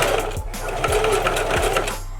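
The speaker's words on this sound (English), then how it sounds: "once you put your foot on the presser foot to make the machine go" A sewing machine runs close and loud as it stitches a hair bundle onto a wig, its needle thumping in a quick steady rhythm with a couple of brief pauses between bursts, no talking.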